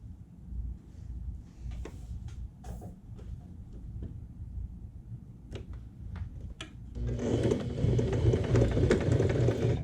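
A sewing machine stitches patchwork fabric, giving irregular mechanical clicks and taps over a low motor hum before the motor runs louder and steady toward the end.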